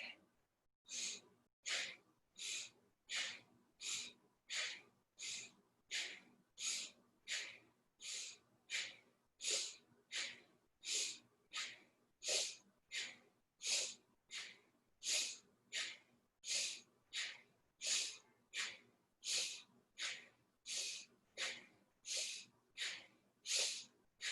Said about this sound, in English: Inhale up, exhale back.